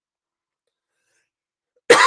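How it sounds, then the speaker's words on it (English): A single sharp cough breaks out suddenly at the end after near silence. "Sorry for the coughing and stuff."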